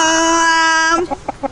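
A backyard chicken kept in a city home gives a long, loud, tonal crowing call, then breaks into several short clucks spaced a beat apart, close and clear.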